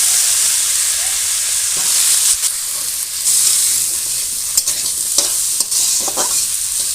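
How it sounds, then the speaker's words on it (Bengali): Long-cut potato slices sizzle in hot oil with onions already fried red, a steady close frying hiss with occasional stirring scrapes and crackles throughout, no talking. "এবার দিয়ে দিচ্ছি লম্বা করে কেটে রাখা আলু।"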